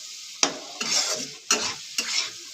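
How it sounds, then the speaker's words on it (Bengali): Spice paste with a splash of water being sautéed in a pan: four distinct scraping stirs, each a sharp clack of the spatula followed by a hissing sizzle, close and loud with no talk. "দেখুন, মশলাটা আমি কষে নিচ্ছি, 2 মিনিটের জন্য কষে নিচ্ছি।"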